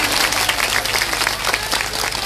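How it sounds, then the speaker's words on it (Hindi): Audience at a Bhagwat katha clapping together in steady, dense applause, loud and continuous throughout with no voices. "जिसको जितना आनंद आया उसे जोरदार ताली बजाओ।"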